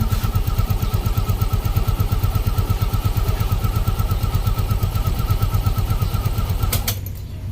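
A Mio Gravis scooter engine runs steadily at close range with a rapid, even pulsing putter, then cuts off abruptly near the end.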